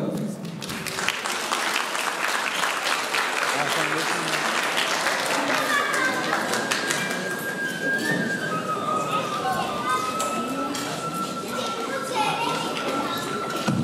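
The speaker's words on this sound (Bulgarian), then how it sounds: "Аплодисменти за свекървата, аплодисменти и за тъщата" Wedding guests give a long, steady round of applause for the mothers-in-law at a celebration, dense clapping close and loud, with some whistling and voices and a sustained tone rising through the latter half.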